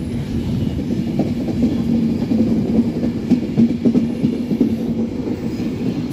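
An Avanti West Coast Class 390 electric train, unit 390044 Royal Scot, passes at Stockport with a steady, loud rumble and a faint clickety-clack of wheels that lasts throughout with no talk.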